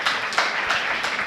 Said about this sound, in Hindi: क्या आप ताली बजाओ।